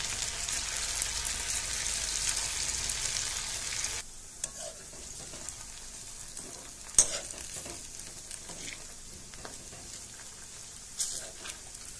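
Oil sizzles loudly as sabudana and potato fritters fry over low heat, a dense, steady hiss for a few seconds, then settling into a softer crackle with scattered pops and splutters.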